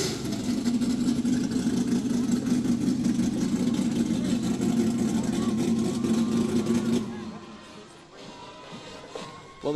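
The Rizzoli's Automotive Super Sport car revs its engine steadily and loudly during a rodeo parade, then cuts out abruptly, leaving quieter street ambience.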